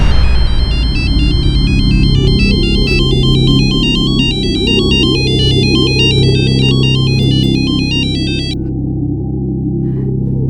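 A phone ringtone for an incoming call chirps in a fast repeating electronic pattern for about eight seconds over a low, steady background drone, then stops.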